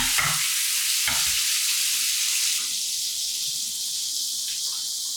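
Seared food cooks in a pan over low heat for fettuccine alfredo, giving off a steady, close sizzle and hiss with a couple of brief knocks at the start, no voice over it.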